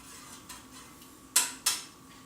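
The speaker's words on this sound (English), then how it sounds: "You stir it around" A spoon stirs chai with milk in a pot, giving a few light metallic taps and then two sharp, bright clinks against the pot's side, close and clear over a quiet background hum.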